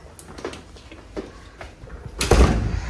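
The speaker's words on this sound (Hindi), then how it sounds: "ये मैं बंद करूँ दरवाज़ा" Hotel room door in Srinagar, Kashmir, being shut: a few light scrapes and taps, then a louder thud as it closes near the end, with faint room noise.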